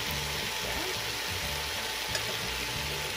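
Asparagus and shrimp frying in a pan, giving a steady broadband sizzle that holds evenly throughout at moderate loudness, with a low hum beneath and no speech.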